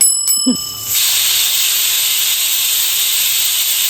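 Pressure cooker whistling while chicken biryani cooks, a loud, steady high-pitched steam hiss that runs almost four seconds after a couple of brief clicks and a short squeal at the start.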